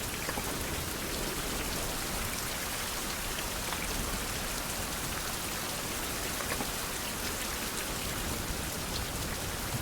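Steady rain in Minecraft survival, a dense, even hiss of falling drops on surfaces that holds constant throughout, loud and close with no talking over it.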